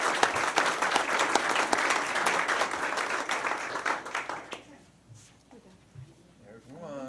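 Sustained audience applause fills a school board meeting room for about four seconds, dense and steady, then dies away into quieter room sound with faint talk.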